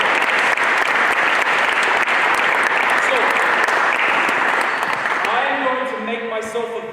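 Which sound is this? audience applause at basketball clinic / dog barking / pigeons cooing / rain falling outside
audience applause at basketball clinic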